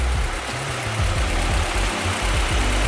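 A 1995 Honda Accord with an H22A engine and a high-output alternator idles with a steady, low, even rumble and faint rhythmic pulsing, close by with no talk.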